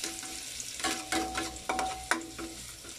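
Chopped garlic frying and being stirred in a hot pan for a barbecue sauce, a steady close sizzle broken by repeated scraping stirs and brief crackling bursts, with no talking.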